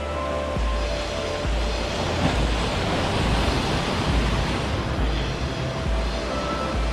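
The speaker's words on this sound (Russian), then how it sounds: "Волна до меня все-таки дотянулась." Ocean surf washes against an island shore, a steady broadband rush of breaking waves with low wind buffeting on the microphone, close and continuous with no talking.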